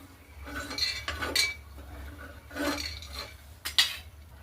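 Freshly roasted cinnamon, cloves and black peppercorns scraped from a pan onto a plate, a few sharp metallic clinks and scrapes of a spoon on cookware in short bursts.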